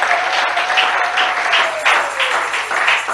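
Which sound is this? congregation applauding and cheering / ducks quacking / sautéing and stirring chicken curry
congregation applauding and cheering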